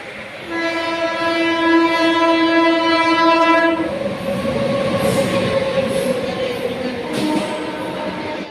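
A loud train horn blares steadily for several seconds as a train arrives at Ujjain station at night, followed by the rumble and clatter of rail cars rolling by up close.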